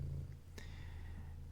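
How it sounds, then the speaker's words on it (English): A cat sitting on a table close to a microphone purrs in a low, steady rumble, with one brief faint click partway through. "The cat is sitting on the table, still purring in front of the microphone."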